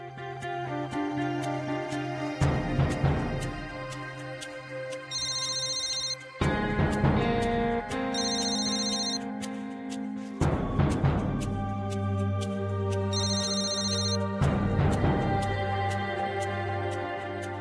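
A telephone rings unanswered in a Marathi TV serial scene, repeated ring bursts cycling over several seconds, with music running steadily underneath.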